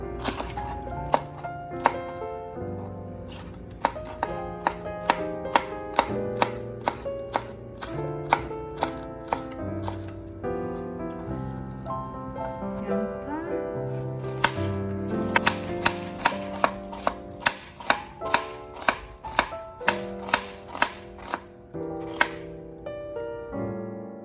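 Knife chops a green bell pepper into even pieces on a cutting board, a rapid series of crisp, close knocks that come in bursts with short pauses, over quiet background music.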